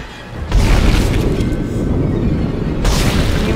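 Heavy weapon fire in Dead Space booms loudly nearby, a thick sustained blast after a sharp onset, followed by a second burst near the end.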